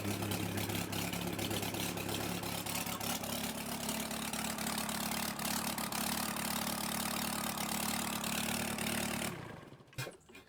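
A Kubota V2203 diesel engine runs with an even, fairly quiet chugging drone that holds steady before shutting off near the end.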